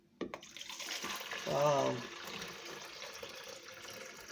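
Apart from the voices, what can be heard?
pouring homemade watermelon kiwi apple juice into jug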